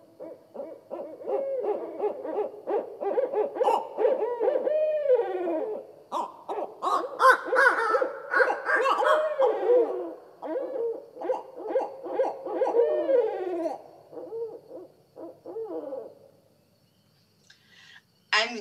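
An owl calling in a long, varied series of hoots, screeches and wavering cries, close and fairly loud, trailing off near the end.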